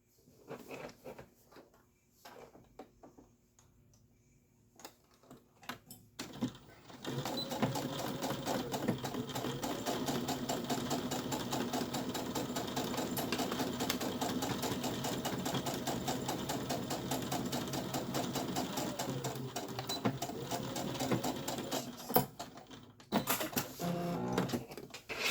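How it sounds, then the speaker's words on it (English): A sewing machine stitches boxed corners, running in a steady, fast mechanical whir for about fifteen seconds after a few quiet clicks and handling noises, then stopping with a couple of final clunks. "we are going to sew"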